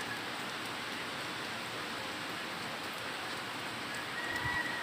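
Steady broadband hiss of rain with strong gusting typhoon wind outdoors, constant and even, no one speaking.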